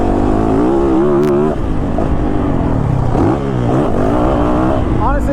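A 2022 Yamaha YZ450FX off-road motorcycle engine drones loudly under the rider with shifting revs, rising and falling pitch as it accelerates, with a voice speaking over it.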